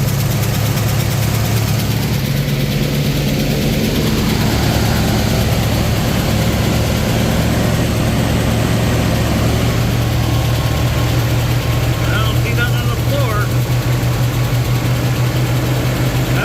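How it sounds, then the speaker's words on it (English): A Ford F350 truck engine idles with tapping lifters, giving a loud, steady, close rumble that holds constant throughout. "Damn lifters are tapping again."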